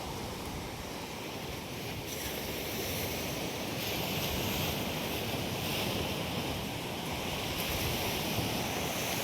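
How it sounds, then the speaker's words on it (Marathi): Sea waves washing steadily onto the shore near Velas beside a road, a broad continuous roar with gentle swells and some wind on the microphone, no talking. "हा समुद्र."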